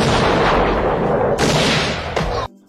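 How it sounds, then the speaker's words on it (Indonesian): Gunfire from a film scene: dense, loud blasts with booming rumble, a sharp fresh shot near the middle and another just before an abrupt cut to silence. "Miller mencoba melepaskan tembakan yang kedua kalinya, namun ternyata ia meleset"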